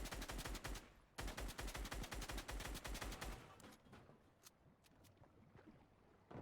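Rapid gunfire in the video game Fortnite during a competitive solo tournament match. Loud repeated bursts of shots come in quick succession, then thin out into fainter, scattered single shots.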